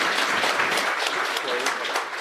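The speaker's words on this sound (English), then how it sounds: "Round of applause for that bar." A live crowd at Little Caesars Arena applauds steadily for a bar, dense and sustained clapping filling the room from start to finish, with a few voices audible under it.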